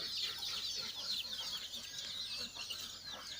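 Domestic chickens in a backyard coop cluck continuously and close by, a busy overlapping flock chatter with no voices.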